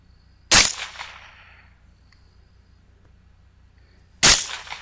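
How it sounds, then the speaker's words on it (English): Two loud, sharp rifle shots fired at a wild boar in a hillside field crack out several seconds apart, the first trailing off in a long echo across open ground. "And a quality assurance shot."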